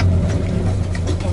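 A Chevrolet Opala engine with a carburetor fault runs unevenly and misfires, a close, low rough idle with faint irregular stumbles over its short span.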